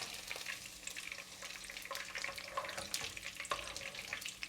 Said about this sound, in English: We'll continue to fry the second batch